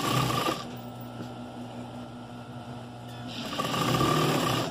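A sewing machine stitches a strip of tricoline fabric, running in a steady close whir that is loudest at the start and end with a quieter stretch in the middle.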